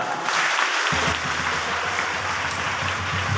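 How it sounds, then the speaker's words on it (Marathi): Loud, sustained applause from students at a school book-launch event, dense clapping that fills the whole stretch. "विद्यार्थी मित्रांनो तुम्ही स्वतःसाठी एकदा जोरदार टाळ्या वाजवून घ्या"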